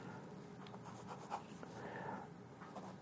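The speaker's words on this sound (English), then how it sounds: "let's try to, you know, write something and see how it feels." A Sheaffer Pop black rollerball pen writing on paper, a faint smooth gliding scratch with small strokes and one slightly louder tap, close and quiet, no talk.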